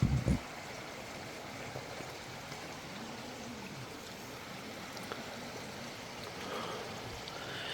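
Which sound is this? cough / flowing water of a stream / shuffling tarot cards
flowing water of a stream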